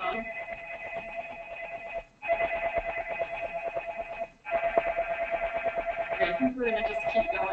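A telephone rings insistently during a sports medicine talk, repeated electronic trilling bursts separated by brief pauses, loud and close, with a voice at the very end.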